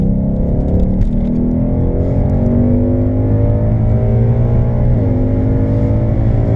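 A 2019 Ford Mustang in Sport Plus mode accelerating hard, its engine droning loud and steady with rising pitch and a brief dip around a gear change, heard from inside the car.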